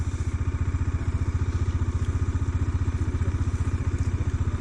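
Bajaj Dominar 400 motorcycle rolling slowly downhill on a snowy road near Kufri, Shimla, its single-cylinder engine putting out a steady, evenly pulsing low thump at close range with no talk.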